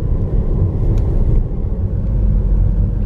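A car drives along a narrow single-track country road in the Cotswolds, heard from inside as a steady loud low rumble of engine and tyres with no talking.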